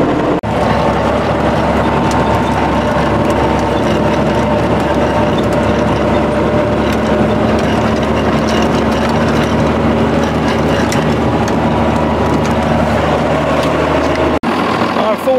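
A tractor engine drones loud and steady in a field, with mechanical clanking and rattling throughout, then cuts off abruptly near the end.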